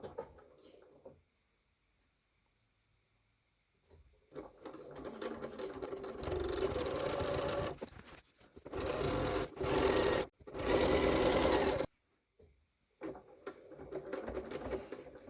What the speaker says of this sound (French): on va coudre tout le long